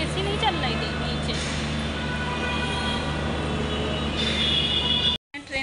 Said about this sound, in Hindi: तो कुछ ही देर में हमारी मेट्रो आने वाली है,